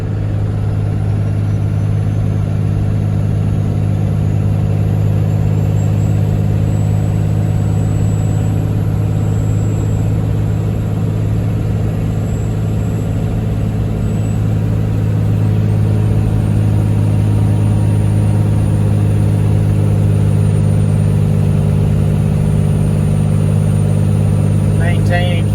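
A Cummins diesel in a Ford F350 drones steadily while towing cattle and hay at highway speed, a loud, low, constant hum inside the cab, with talking heard intermittently over it.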